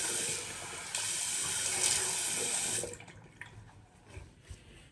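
Cold tap water runs as a rinse during a wet shave with an electropolished razor: a loud, steady rushing stream for about three seconds, then it cuts off, leaving a few faint drips and quiet handling noises.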